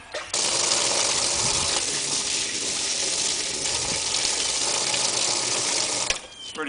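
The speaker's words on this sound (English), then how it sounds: "Just rinse it out, dump it a few times." Water rushes and splashes steadily as a water trough is rinsed out and dumped, a loud continuous gush that runs nearly the whole time before cutting off near the end.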